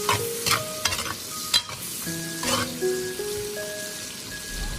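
Cured pork sizzles and crackles as it is stir-fried in a wok with winter bamboo shoots, a steady close hiss broken by a few sharp scrapes and clatters of the spatula, with a faint tonal hum and no talking.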